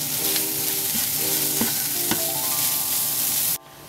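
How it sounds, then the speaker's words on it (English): Garlic and pancetta frying on medium heat in a pan for spaghetti carbonara, a constant close sizzle with a few soft stirring scrapes, cutting off abruptly near the end. "we're going to put in our garlic and then let it cook for another minute and a half on a medium heat"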